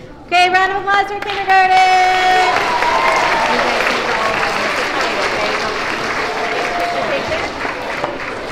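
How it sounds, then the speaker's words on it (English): Applause at a Pre-K to third grade character education school assembly. It opens with high children's voices cheering, then loud, dense clapping from the seated audience fills the rest of the stretch, tapering slightly at the end. "round of applause for"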